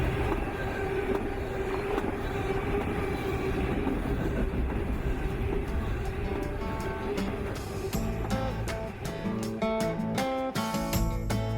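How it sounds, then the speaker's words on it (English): A freight train passes a railroad crossing in Chesterton, Indiana, its rumbling wheels and wagons filling the scene loudly and steadily, with rhythmic clickety-clack and clanking growing sharper near the end. "at this railroad crossing, you can see a freight train pass by just about every 20 minutes"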